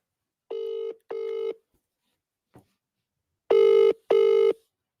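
A WhatsApp call rings out in two pairs of electronic tone bursts separated by a pause, each burst steady and evenly spaced, the second pair louder.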